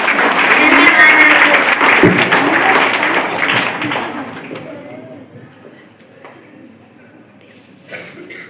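Students and staff at a school GK quiz applaud a correct answer, a loud burst of clapping that fades out over several seconds, with murmuring voices mixed in and quieter room noise after.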